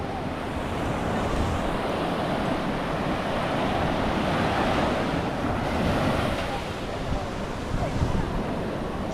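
Surf rolls in at Crystal Bay beach in Bali, a continuous roar of breaking waves mixed with gusting wind buffeting the microphone, loud and steady throughout with slight swells in intensity.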